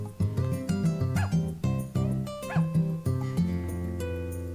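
Cartoonish dog barks and yips from the video game Harvest Moon: A Wonderful Life, in short repeated bursts over a bouncy game music loop, fairly loud with no talking.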